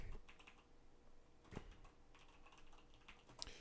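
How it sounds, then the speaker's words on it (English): A computer keyboard is typed on in short, faint bursts of quick clicking keystrokes, with no speech, in a quiet room. "I'll type that in here"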